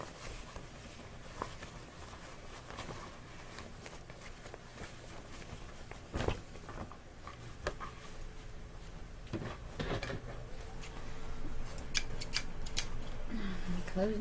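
Scissors snip fabric while a rice bag is sewn, with close, crisp cuts and light handling clatter over a steady room hiss, a few sharp taps standing out.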